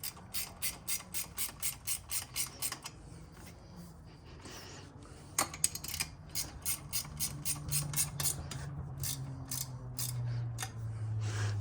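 Steady ratcheting clicks in quick bursts as bolts are tightened on a Suzuki LTZ 400 ATV, close and crisp, pausing briefly before resuming in a rhythmic run.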